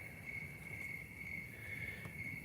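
Crickets chirp outdoors at night in a steady, continuous high trill, faint but constant over a low background hum, with no talking.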